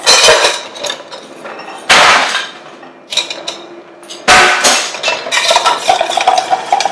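Ice clatters into a glass and is stirred for a Dirty Martini at a bar, producing bright clinks and rattling in several loud bursts separated by brief pauses.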